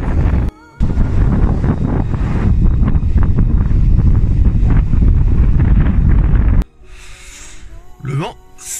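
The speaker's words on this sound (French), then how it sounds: "Le vent, ça décoiffe." Strong, cold wind in Iceland buffets the microphone in a loud, roaring rush that drops off suddenly, followed by quieter gusts and a brief voice.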